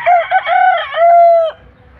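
A rooster on a Filipino farm with fighting-cock bloodlines gives one loud, close crow, a drawn-out multi-part call lasting about a second and a half, with quiet afterward.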